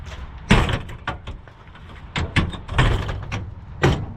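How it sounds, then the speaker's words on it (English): A metal toolbox lid on a big aftermarket bumper of a hotshot truck is worked open, giving several sharp clanks and latch knocks at close range, then a louder bang near the end. "let's get this toolbox open so I can show you how it works."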